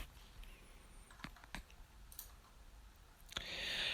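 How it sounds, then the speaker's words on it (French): A single sharp computer mouse click on a link, quiet and brief, followed by another soft click, in an otherwise near-silent room. "on va cliquer dessus"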